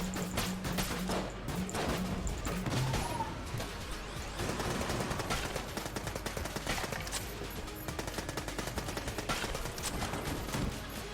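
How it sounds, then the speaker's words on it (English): Rapid gunfire in the top-down roguelike shooter Enter the Gungeon, shotgun blasts among dense, continuous bursts of shots and impacts layered over game music, loud and busy throughout. "You know exactly what you're gonna get out of a shotgun. Damage, lots of it."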